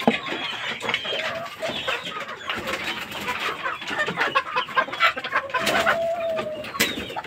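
Chickens and chicks cluck and chirp at feeding time in a backyard flock, a busy overlapping chorus of close clucks and peeps with no clear talk.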